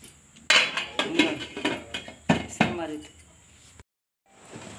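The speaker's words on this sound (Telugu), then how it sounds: "మూత పెట్టేసుకోవచ్చు" Metal lid and cooking pot clatter with a series of sharp clanks and knocks as a lid is set on a pot of rice and water for egg biryani, with a voice talking over them.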